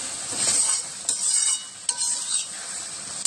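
A spoon scrapes and stirs a thick sweet mixture flavoured with cardamom powder in a pan, giving a soft sizzle broken by several sharp metallic clinks and scrapes at irregular intervals, close and loud with no talking.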